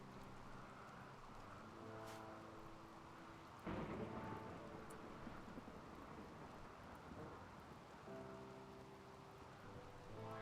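Rain and thunder in the video game Rimworld: a steady hiss of falling rain with a rumbling thunderclap partway through, accompanied by soft background game music.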